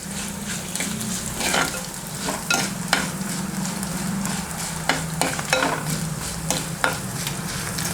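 Garlic and dried red chillies fry in a pan for a drumstick leaves thoran, giving a continuous crackling sizzle over a low hum, with repeated scraping strokes as they are stirred.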